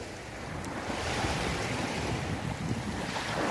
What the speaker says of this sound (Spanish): Y ahora llegamos a la playa Gun Beach. La playa aquí en la bahía de Tumon.